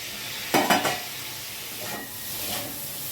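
Cauliflower and potato frying in a pan for a Bengali-style cauliflower and paneer dish, with a couple of loud stirring bursts of sizzle early on, then a softer, steady frying hiss with faint later stirs.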